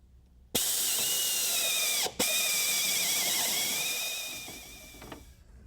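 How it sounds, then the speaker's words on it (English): A power drill bores a 1 5/8 inch hole through the firewall of a 1971 Chevelle, a loud steady whine that stops briefly, restarts, then slowly winds down. "we've got a couple of 1 5/8 inch holes that we need to drill in the firewall here"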